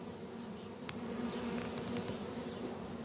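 A captured honey bee swarm buzzes steadily and continuously at close range, a dense drone with no talking.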